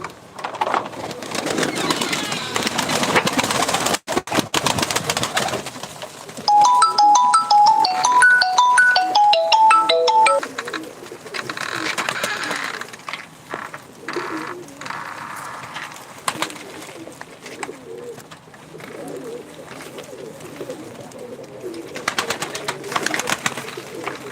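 Pigeons coo among many birds in a crowded loft, with a soft continuous murmur of cooing, a brief burst of bright chirping or ringing notes in the middle, and scattered clatter.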